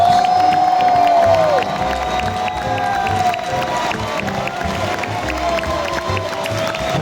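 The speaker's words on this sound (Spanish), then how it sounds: "el gran Javier Olivares de la Botella, dando un aplauso por favor" A large indoor crowd at Comic-Con Málaga applauds and cheers loudly and continuously, with a whistle at the start and scattered shouts throughout.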